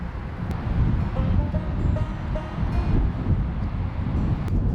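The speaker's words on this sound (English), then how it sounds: "it is a very windy" Strong wind buffets the microphone outdoors beside a van, a loud, steady low rumble with gusting swells that fills the whole moment.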